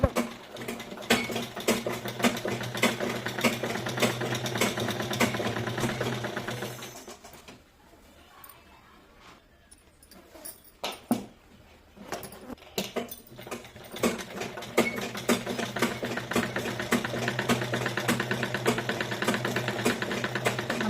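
Electric sewing machine stitching a pleated palazzo, a steady rapid mechanical whir with dense rhythmic clatter that pauses for several seconds midway, leaving faint handling noises, then resumes running continuously.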